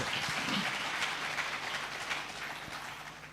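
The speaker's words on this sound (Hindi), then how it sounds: "एक बार तालियां बजाइए आप लोग।" An audience applauds to welcome the chief minister at a public forum in Uttarakhand, a broad steady wash of clapping that is fairly distant and slowly eases off.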